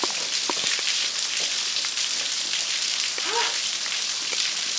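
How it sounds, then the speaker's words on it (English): Steady rain falls outdoors in nature, a dense continuous hiss of drops pattering on surfaces close by, with a few faint incidental sounds mixed in. "I'm freezing in this rain."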